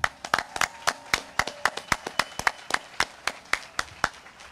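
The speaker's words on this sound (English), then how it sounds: "Let's clap for them." An audience at the World Dragon Boat Races opening ceremony in Tampa, Florida claps in a thin, scattered way, with distinct individual hand claps ringing out at a fairly steady rhythm for a few seconds, moderately close.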